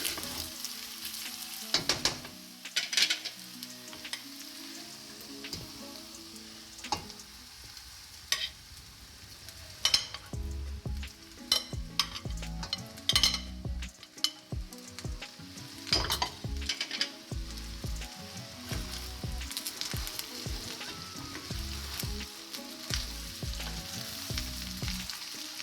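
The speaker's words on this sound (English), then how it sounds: "now you can see the rice and the eggs and all are frying together" Egg fried rice with Vienna sausages, onions and chilies sizzling in a pan, with steady frying hiss broken by repeated scraping and clanking stirs of a utensil against the pan, close and without talk.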